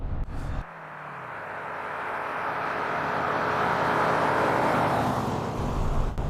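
A Jensen Interceptor's engine roars steadily, building in intensity as it accelerates, a powerful continuous rumble without any talking.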